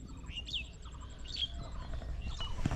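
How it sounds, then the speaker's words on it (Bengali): A bird calls with a few bright chirps over farmland with maize and rice fields, heard outdoors against a steady low background rumble. "এই দেখতে পাচ্ছেন পাখি উড়ে গেল"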